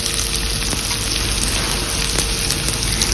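Rice and grated coconut dry-roasting together in a pan for a sweet coconut rice dish, giving a steady, even hiss and crackle with no voices.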